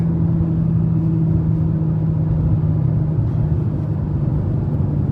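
A BMW G82 M4 Competition engine drones steadily from inside the cabin while driving canyon roads, a moderate, even hum over road rumble with no speech.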